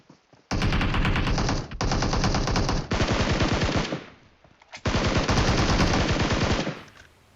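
Automatic gunfire in a video game cracks out in loud, rapid bursts, with four long sprays separated by short pauses and no voices over it.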